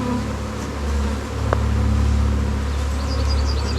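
Honeybees from a newly introduced colony swarm around a fresh hive on a mountain farm, a steady, dense buzzing hum that carries on without pause, close and fairly loud.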